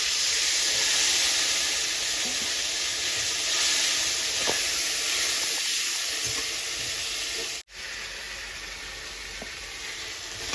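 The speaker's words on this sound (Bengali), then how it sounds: "মশলা ধোয়া একটু জল দিলাম" Water poured into spice paste frying for shukto, a broad steady steam hiss filling the pan throughout, briefly cut off near the end before resuming.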